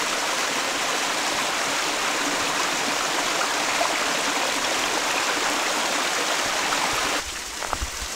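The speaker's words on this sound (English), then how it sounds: "First waterfall I've seen here in Japan." A waterfall in Japan pours in a loud, dense, unbroken rush of water heard up close, and the roar drops noticeably just before the end.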